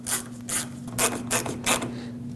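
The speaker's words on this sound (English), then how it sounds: "reinstall this 10mm headed fastener. Snug it up." A ratchet snugging a 10mm-headed fastener on a 2006-2015 Lexus IS250 front bumper cover, several quick clicking bursts in an uneven rhythm, close and clear over a low steady hum, with no talking.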